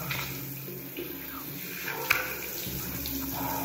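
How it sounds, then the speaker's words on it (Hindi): A person rinses their face with tap water at a bathroom sink, a steady close running-water wash with small splashes and one brief sharper splash midway, no talk. "अच्छे से पानी से इसे धो रहा हूँ चेहरे को, कि जितना ही फॉर्म है वो निकल जाए।"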